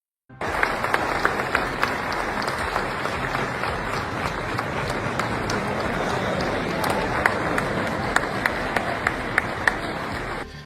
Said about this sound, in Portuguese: os convidados ainda aplaudiram Trump de pé